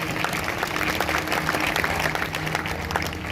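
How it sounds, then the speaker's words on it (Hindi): Steady applause rises from a church congregation at a Sunday service, sustained and fairly even with a low hum beneath it and no clear speech. "अगर आए हैं तो जोरदार तालियां बजाएंगे"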